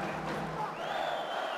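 Arena crowd of several thousand local Kazakh fans roaring in support of fighter Jakipov at a boxing event, a dense continuous wash of cheering filling the hall, steady and loud throughout.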